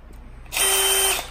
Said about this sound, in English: Now we're drilling out the bottom of this plastic to secure the splitter onto here